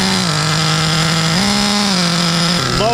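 Nitro engine of a Redcat Earthquake 3.5 RC truck with an engine problem, running close and loud with a high, buzzing whine whose pitch rises and dips slightly as the throttle changes, with no talk.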